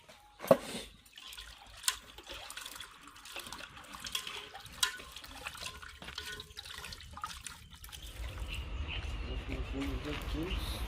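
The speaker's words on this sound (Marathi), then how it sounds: "आपण ह्याला अजून एकदा धुवून घेणार आहे साध्या पाण्यामध्ये" Cleaned goat head meat is rinsed in plain water, giving splashing and sloshing with a few sharp knocks against a vessel, then a louder steady rush of running water near the end.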